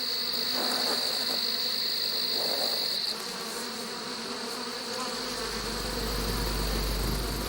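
Bees buzzing around a honeycomb hive as a death's head moth climbs among them, a steady dense insect drone that holds throughout, with a bright high whine fading partway through.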